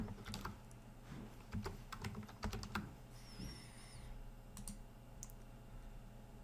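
Quiet, irregular keystrokes rattle on a computer keyboard. The taps come in scattered bursts, with a faint high chirp partway through.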